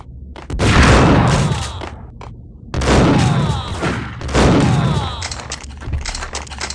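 Gunfire in the Max Payne video game: three loud, dense bursts of rapid shots and booming impacts, separated by short gaps.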